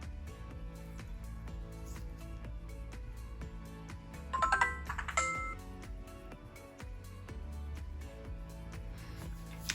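A Motorola ROKR EM25 prototype engineering-sample phone powers on, sounding a quiet startup tone sequence of bright chiming notes in the middle, over a low background hum with occasional small clicks.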